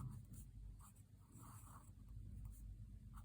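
Pen or marker strokes scratching across a surface while an equation is written out for a maths lesson on pairs of linear equations, soft and steady, short bursts over a low room hum, with no talk.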